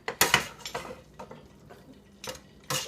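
Scattered metal-on-pan clinks and taps from a utensil mixing shrimp into egg roll filling in a pan, a few sharp knocks at the start and end with quieter stirring between.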